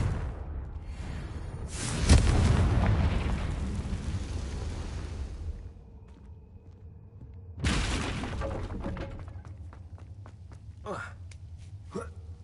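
In the Hogwarts Legacy video game, a Confringo blasting spell erupts in a loud crashing burst with a rumbling tail, then a second blast hits, followed by scattered debris clatter and sharp ticks.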